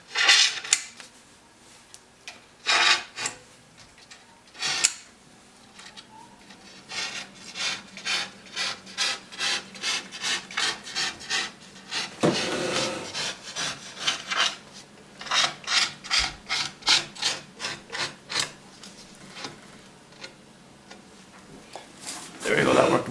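A face-mounted photo on glass being trimmed along its edge by hand, giving a series of repeated rasping up-and-down strokes in bursts, close and clear, with a voice talking between and over them.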